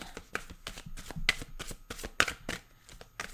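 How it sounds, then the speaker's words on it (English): Tarot cards are shuffled in a quick, steady riffle of crisp flicks and taps, close up and fairly soft, with no talking. "Get your main spread shuffled."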